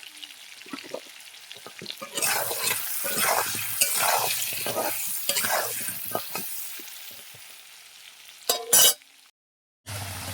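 Potato pieces fry in hot oil in a pan, making a steady close sizzle with stirring scrapes. Near the end comes a brief clatter, then a short silence.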